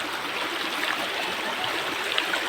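A strong creek current rushes steadily nearby in a continuous, full wash of flowing water with no voices.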